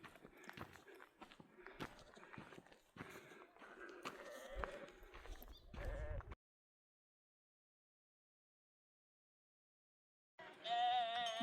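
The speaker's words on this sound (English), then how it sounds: "Look at the sheep moving." Sheep bleat amid shuffling hooves and movement, followed by a stretch of silence and then another bleat.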